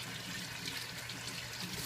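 Vegetables being rinsed under a running tap, a steady close wash of flowing water with no voices, while preparing a shepherd's pie.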